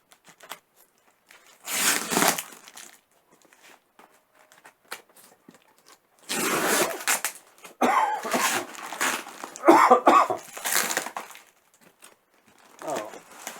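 Unboxing a heavy parcel of about thirty kilos sent by Vevo: several bursts of crinkling, tearing and rustling packaging, separated by quiet pauses, close to the microphone.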